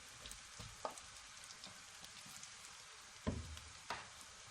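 Capsicum, cabbage and tomato go into a hot pan and give a faint, steady sizzle, broken by a few soft clunks and stirring knocks.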